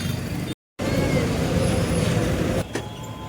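A car idles outside a hospital while parking in busy roadside traffic, with a steady loud engine rumble, one brief dropout, and a faint tone after a few seconds.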